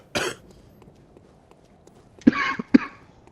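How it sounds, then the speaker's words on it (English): Someone coughs: a single cough, a quiet pause, then two sharp coughs close together, heard near and alone in an otherwise quiet room. "You're making me cough."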